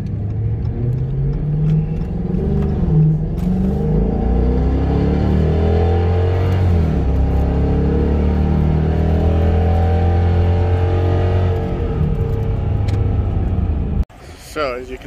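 A 2015 Dodge Charger with a service shifter fault shifts into reverse and drives off, its engine rumbling loud and steady from inside the car, rising and easing with throttle before an abrupt cut near the end.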